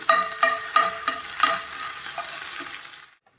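Crushed ginger, garlic and fennel seeds fry in hot coconut oil for a Kerala egg roast, with a close sizzle and several rhythmic spatula scrapes and taps that fade before the sound cuts off.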